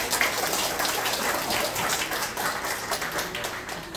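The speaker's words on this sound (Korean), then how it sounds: "우리 박수 한번 하겠습니다." A church congregation clapping for children after an hour-long Sunday service, a brisk, crackly patter of many hands that holds steady throughout, heard from a little distance with no voices.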